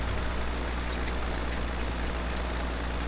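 Heavy farm tractor engine in Farming Simulator 2017, worked far too hard, a steady loud low drone held without pause under a broad constant roar.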